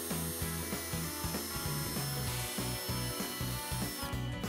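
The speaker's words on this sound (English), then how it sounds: "Drill through the gel coat and the fiberglass before drilling in forward." A power drill whirs steadily as it bores through a boat's gel coat and fiberglass, its motor pitch rising and falling with pressure, close and fairly loud throughout.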